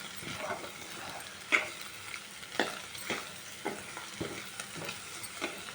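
Egg bhurji frying and being stirred in a pan makes a soft, steady sizzle with repeated scraping taps of a spatula, faint and close, with no talk.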